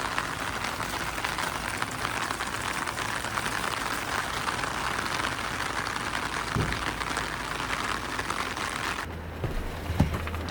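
Heavy downpour pelts a used camper van parked overnight at a roadside station near Bessho Onsen in Nagano, making a dense, steady hiss of rain on the surface. It is continuous and even, with an occasional faint thump.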